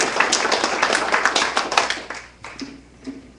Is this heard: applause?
yes